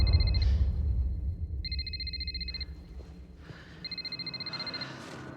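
A telephone rings in a psychiatric hospital, three bursts of electronic trilling separated by pauses over a low background rumble.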